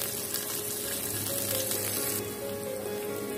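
Finely chopped garlic frying in hot oil in a home kitchen pan, a steady close sizzle with a bubbling hiss that runs without a break throughout.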